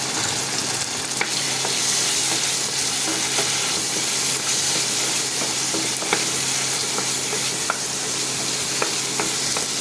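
Spice paste with dried red chilli powder sizzles and fries steadily in a pan, with faint scraping clicks of a spoon stirring it throughout, a close, continuous sizzle with no talking.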